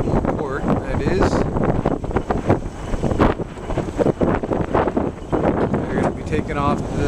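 A sailboat under motor in wind, with steady engine rumble, hull and water wash, and gusts buffeting the microphone throughout, while people talk over it.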